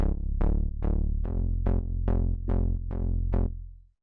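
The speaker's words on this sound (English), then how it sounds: "this is just a really simple sound I made with analog. It's a square wave, a little bit of white noise, going into a filter" Simple synth bass built in Ableton Analog from a square wave with a little white noise through a filter, playing eight evenly spaced, sustained root notes in a steady rhythm, loud and alone before fading out.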